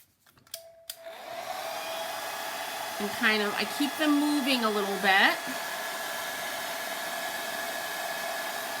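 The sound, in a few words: hair dryer blowing to dry paint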